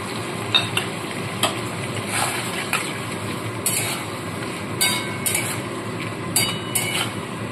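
Steady sizzling of onions and capsicum frying as sauce is added for chilli fish, with occasional sharp clinks and scrapes of a utensil against the pan.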